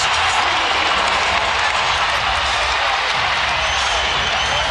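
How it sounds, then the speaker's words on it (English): A basketball arena crowd at a Cleveland Cavaliers versus Golden State Warriors game roars steadily in the first quarter, a dense, loud wall of cheering that holds level throughout. "The crowd is delirious for the first quarter."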